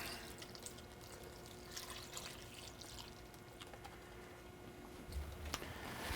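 Full-fat coconut milk pours into a pot of keto beef curry stew, a quiet, thin trickle and drip of thick liquid with soft splashes that grow a little louder near the end.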